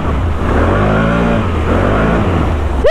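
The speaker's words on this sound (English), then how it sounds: "I always make fun of the Can-Am exhaust because it sounds exactly like a vacuum cleaner." A 2021 Can-Am Outlander XMR 850 ATV runs at full throttle through flooded mud trails, its engine a loud, close, sustained roar with a whiny, vacuum-like exhaust tone and no talking.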